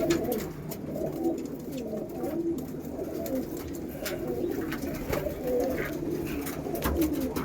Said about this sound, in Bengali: এটা কোহিনুর পায়রা আছে